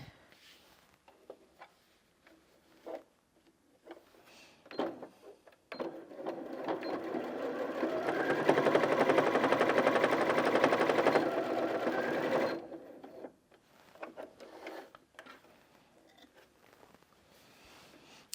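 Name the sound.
Janome Sewist 740DC sewing machine sewing through four fabric layers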